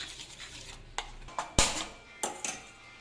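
A spoon stirs a green gram face cream mixture in a pan on a stove at medium heat, giving several separate clinks and scrapes against the metal, close and irregular, with no voices.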